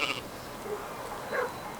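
Sheep bleat on a livestock farm raising ewes alongside cattle, with two or three short bleats over a steady outdoor background, moderately close and heard without talk.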